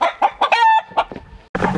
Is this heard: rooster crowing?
yes